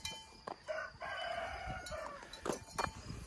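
Chickens cluck and a rooster crows from a little distance in rural Montenegro, with several overlapping calls over quiet outdoor background noise.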